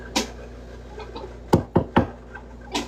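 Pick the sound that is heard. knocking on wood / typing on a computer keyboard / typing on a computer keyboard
knocking on wood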